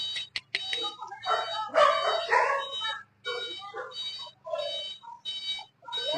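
Several street dogs bark in bursts at a feeding spot in Nakhon Pathom, Thailand, with a steady hum underneath and a voice talking over the noise.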